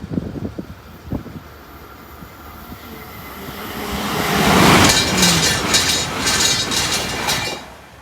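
A passenger train runs through the Church Lane level crossing at South Muskham, its rumble swelling from the distance into a loud pass with rhythmic wheel clatter over the rails, and no talking.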